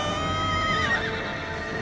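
Horses of the Riders of Rohan in a Lord of the Rings battle scene, with a loud neighing whinny over rumbling hooves and battle noise.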